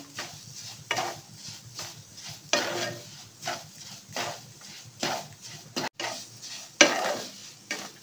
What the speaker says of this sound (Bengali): সুজির সঙ্গে এটাও একটু ভাজা ভাজা হবে।